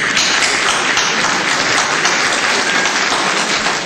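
Dense, sustained applause from a crowd at a party in an Athens hotel, loud and even throughout with no break and no talking.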